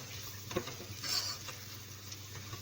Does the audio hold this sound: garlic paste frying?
yes